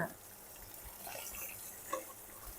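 Mae Klong mackerel fries in a pan, giving a faint, steady sizzling hiss with a few small pops over about three seconds.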